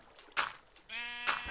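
Sheep bleating in a Minecraft-style video game, one drawn-out harmonic bleat standing alone, bracketed by brief clicks of game sounds before and after.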